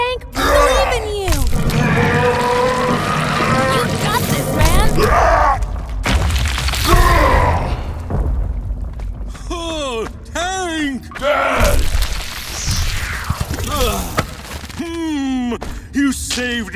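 A cartoon character named Tank strains to lift a boulder trapping his dad, with loud effortful groans and grunts, booming rumbles underneath and other voices shouting and talking between the strains.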